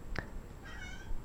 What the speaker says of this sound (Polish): Kotka miauczy straszliwie